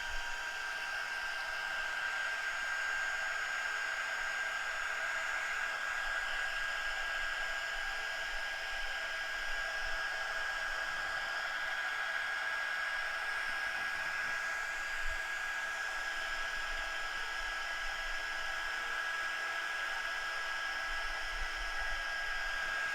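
A heat tool blowing steadily to dry a craft piece, a continuous close whooshing hiss with a faint whine, even and unbroken throughout with no talk.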